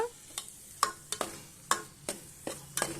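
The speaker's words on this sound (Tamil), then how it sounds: "அதனால் வந்து மீடியமாக வச்சு நல்லா இந்த மாதிரி வதக்கிக்கோங்க." Masala for a paruppu urundai kulambu being sautéed and stirred in a pan over medium heat, with repeated sharp scrapes and clinks of the spoon against the pan at a steady rhythm over a low, continuous sizzle.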